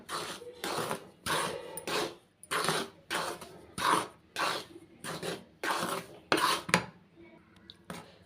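Rice flour and dal being stirred together in a pan, heard as a series of rhythmic scraping, rasping strokes, each about half a second long, close and fairly quiet with no talk.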